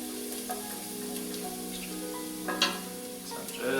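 An ingredient is stirred in hot oil for vodka sauce, giving a continuous close sizzle with light scraping and a couple of soft utensil clicks, no talk.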